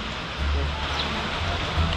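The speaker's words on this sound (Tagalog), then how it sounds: "Tuloy pa rin ang pag-ulan." Heavy rain from Typhoon Ulysses falls steadily as a dense, constant hiss of drops on surfaces. A low wind rumble runs underneath it, and no one speaks.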